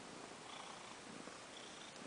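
Soft, steady purring close up, a continuous low rumble with no talking.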